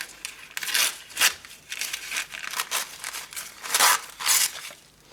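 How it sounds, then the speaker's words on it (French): Paper being torn by hand into small pieces while making an art journal cover, a run of close, loud rips and crinkles in irregular bursts with short pauses between them. "je vais maintenant déchirer en petits morceaux"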